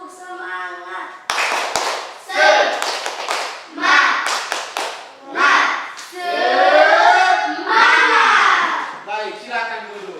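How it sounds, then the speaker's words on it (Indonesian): A class of children stands and performs a rhythmic spirit clap in an Indonesian classroom lesson, sharp patterned claps in bursts alternating with loud chanted voices close by. "Kita berdiri tepuk semangat sekali lagi."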